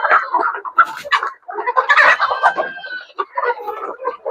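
Dekalb Brown hens with trimmed beaks clucking and squawking excitedly at feeding time, a busy, close flock chatter with overlapping calls and a few sharper cries.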